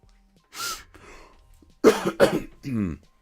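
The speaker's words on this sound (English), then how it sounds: "I don't mean to be coughing in your ears like this" Several sharp coughs close to the mic, a couple of short bursts then two heavier hacks and a throat-clearing sound, alone with no talk.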